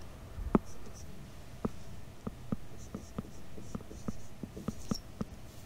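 Writing on a board during a Class 9 maths lesson gives a sparse series of light taps and short strokes, irregularly spaced and close, over a quiet room background.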